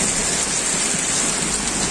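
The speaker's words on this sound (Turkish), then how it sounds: "dolular koca koca yağmaya başladı Umay." Heavy rain mixed with large hailstones pours down outdoors, a dense, loud, continuous hiss and patter with no gaps and no talk.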